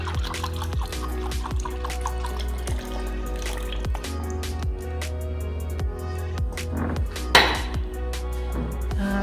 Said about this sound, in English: now we are gonna add half a cup of buttermilk,